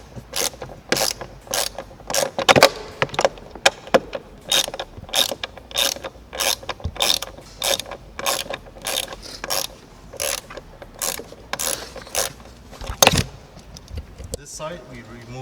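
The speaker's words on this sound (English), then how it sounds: "I'm just gonna use a 10mm wrench" A 10mm ratcheting wrench backs out a seat-belt bolt behind plastic car panels during a harness bar install, giving repeated close, crisp bursts of clicks in an uneven rhythm, with light speech in the background.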